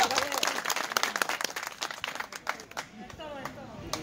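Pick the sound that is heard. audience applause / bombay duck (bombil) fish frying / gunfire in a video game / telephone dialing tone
audience applause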